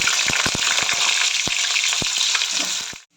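Potatoes frying in hot oil for egg biryani, giving a loud, steady crackling sizzle up close, punctuated by scattered sharp pops and taps, then cutting off abruptly at the end.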